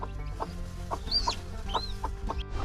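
A broody hen clucks with her chicks, short soft repeated clucks in an uneven rhythm close by, mixed with thin high peeping from the chicks.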